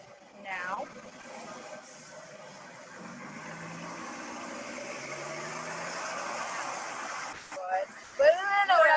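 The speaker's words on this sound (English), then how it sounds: "listen for a car on your right" A car passes on the right at a roadside crossing, a steady broad engine and tyre wash that builds gradually and holds for several seconds, with brief voices before and after.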